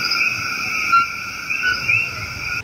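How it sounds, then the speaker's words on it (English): Coqui frogs call at night in Puerto Rico, a dense chorus of steady high-pitched tones that overlaps continuously and stays loud and unbroken with no voices. "you can hear them singing in the night their iconic"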